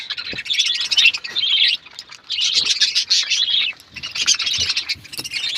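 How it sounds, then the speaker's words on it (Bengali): A pair of pet birds in a breeding colony chirp and twitter in three lively bursts, close by and fairly loud, with brief pauses between. "আমাদের এই পাখি জোড়ার কথাবার্তা হয়েছে"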